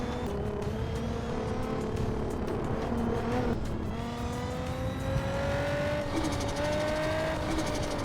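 Boosted Nissan 350Z on the Hakone Turnpike mountain road, the engine revving and rising in pitch through gears, with shifts and tire noise, heard loud and close from inside without voices.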